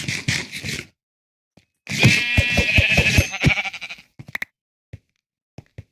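Sheep bleat loudly in Minecraft, two wavering calls with a gap between them, followed by scattered clicks and knocks.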